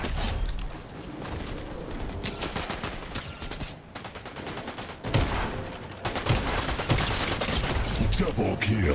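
Rapid bursts of gunfire in a Fortnite match, dense overlapping shots and a machine-gun-like fusillade running throughout at steady loudness, with the action getting louder and busier in the second half, under some talk.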